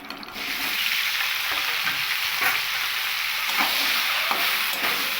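Cut cauliflower sizzles steadily in hot oil, reused from frying potatoes for a vegetarian aloo fulkopir dalna, with a loud continuous crackling hiss and occasional stirring clatters, no voices.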